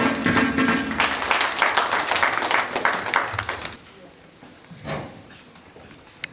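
An audience at a human rights event applauds at a welcome, a dense burst of clapping that fades after a few seconds, followed by scattered noises and a brief voice.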